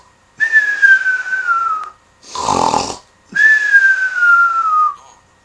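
A voice imitates loud snoring: two long whistling inhales with a rough, breathy snort between them. Close and exaggerated.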